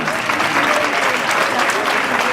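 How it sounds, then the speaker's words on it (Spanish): A crowd at a children's Christmas party in Terrassa gives a loud, thick round of applause for a young volunteer coming up on stage, the clapping steady and close throughout. "Un fuerte aplauso para Paula"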